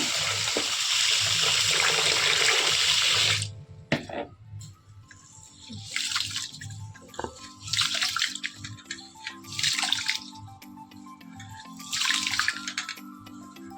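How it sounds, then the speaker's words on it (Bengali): Uncooked rice is rinsed in water for a home meal, with a steady rush of running water at first, then intermittent sloshing and swishing bursts as the grains are swirled by hand, close and moderately quiet. "এদিকে চালটাকে ধুয়ে নেব"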